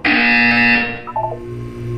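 A buzzer in the video game Portal 2, a loud electronic tone that sounds for under a second and cuts off, followed by quieter synthetic beeps and a low repeating hum.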